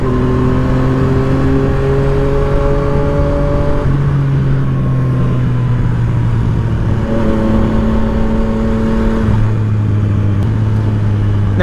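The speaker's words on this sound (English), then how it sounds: "here I am riding the bike." A used Yamaha MT-09 (FZ09) motorcycle engine hums steadily and close while being ridden, its pitch rising and falling through gear changes with continuous wind rush and no talk.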